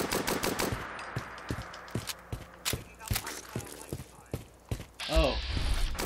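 A Bren light machine gun fires in a modded Fallout 4 (Fallout London) on Xbox One or PC. Sharp, loud reports come in a steady stream about half a second apart, with mechanical clacks between them, and end in a longer, noisier burst of sound.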